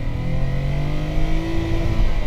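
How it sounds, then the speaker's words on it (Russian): An Opel Omega V6 engine drones steadily inside the car while driving, heard loud and close from the cabin with the heater area's sound insulation removed, a continuous rumble with a slight rise in revs. "Почему-то звук мотора раздается из печки"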